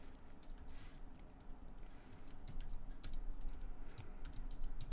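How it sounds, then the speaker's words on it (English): Keys clatter on a computer keyboard in quick irregular bursts of typing, close and fairly quiet, with no talking over them. "I'm having a real issue typing today."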